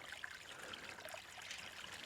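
Water trickles over a small waterfall dug into a deeper spot of a stream fed by a natural spring, a faint, steady splashing babble with no voices.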